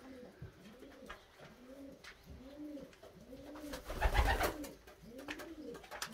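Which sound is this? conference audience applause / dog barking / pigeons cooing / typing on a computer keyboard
pigeons cooing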